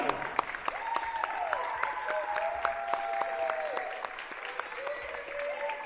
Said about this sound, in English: a warm round of applause for Baruch College's all-time leading scorer, Mia Castillo.